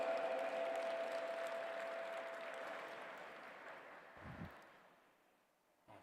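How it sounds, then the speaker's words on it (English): Audience applause at the G20 Interfaith Summit welcoming a speaker, Rodrigo Vitorino Souza Alves, fairly faint and gradually fading away, with a brief bump of handling noise near the end. "Please put your hands together and welcome with a round of applause"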